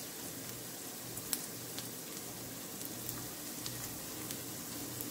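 Spicy sausages sizzle gently in a frying pan, a soft, even crackle with a few sharp pops scattered throughout, fairly quiet and alone.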